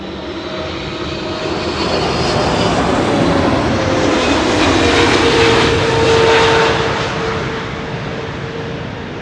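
A KLM airliner landing at Schiphol roars past close by, its jet engine noise swelling to a broad loud peak and then easing away, with no other sound over it.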